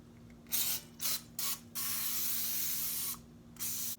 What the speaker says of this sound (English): I think I'm gonna spray a little bit more.